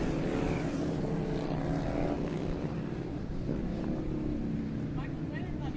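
Harley-Davidson XR1200 motorcycles on a warm-up lap at a race circuit, a steady broad engine drone heard from a distance while a commentator talks over it.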